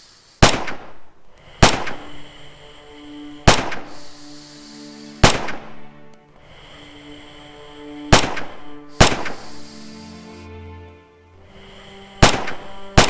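Rifle shots ring out at targets on a firing range in Red Orchestra 2: Heroes of Stalingrad, seven sharp loud cracks at irregular intervals, each trailed by a ringing decay, with no talk.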